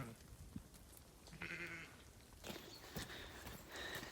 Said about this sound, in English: These are the sheep who are all having twins and they're just waiting for their breakfast.